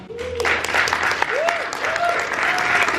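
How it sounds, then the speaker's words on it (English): A convention panel audience at Kid Kon applauds YouTubers taking the stage, a steady dense clapping with some cheers and voices mixed in, loud and close throughout. "round of applause for them"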